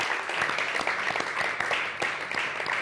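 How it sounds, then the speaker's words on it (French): Audience applause at a church service, dense continuous clapping from a crowd, loud and steady throughout the short stretch. "je crois qu'on peut applaudir pour la grandeur du roi des rois."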